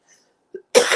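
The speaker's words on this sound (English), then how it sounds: "I still got a cough" A single harsh cough bursts out after a short throat sound, loud and close, following near silence.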